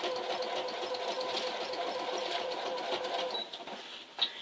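A sewing machine stitches a quilt at a steady, fast hum during free motion quilting, close and continuous, then stops near the end with a couple of small clicks.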